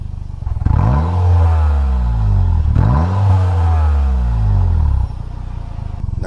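A motorcycle fitted with an inner silencer exhaust idles, then is revved twice, each blip rising and falling in pitch before settling back to a steady, close, moderately loud idle.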